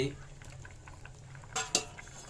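Boiled eggs going into a simmering egg curry in a home kitchen: a low bubbling bed runs throughout, broken by two sharp metal spoon-and-pan clinks near the end.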